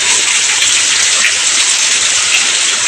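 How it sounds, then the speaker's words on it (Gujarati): Heavy monsoon rain pours down outdoors near a farm field, a dense, loud, unbroken hiss that stays constant throughout with no one speaking. "જોરદાર વરસાદ પડે છે."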